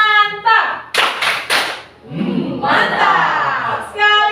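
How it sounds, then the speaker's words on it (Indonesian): Classroom group clapping a rhythmic pattern in a lesson, three sharp claps in quick succession amid children's chanting voices, with an adult speaking before and after. "Tepuk mantap."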